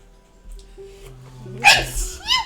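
A single sharp sneeze bursts out near the end, amid quiet background talk, followed by a faint vocal sound.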